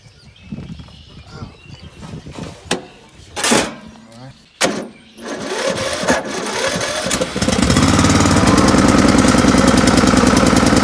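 Knocks and clunks of mechanical fiddling, then an old engine catches and settles into a loud, steady rapid chugging run.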